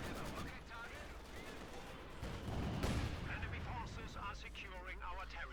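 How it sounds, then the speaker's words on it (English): Rocket barrage from a Panzerwerfer in the strategy game Company of Heroes 2, a dense rumble of launches and distant explosions mixed with battle noise, with a voice talking over it. "Panzerwerfer out here, getting ready to bombard"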